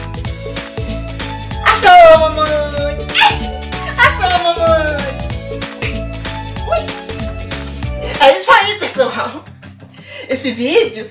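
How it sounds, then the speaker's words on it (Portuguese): A restless dachshund at night yips and whines in short bursts over a couple of people chatting and chuckling close by. The sounds are loud and overlapping. "esse vídeo é só pra mostrar que a minha cachorrinha não me deixa dormir."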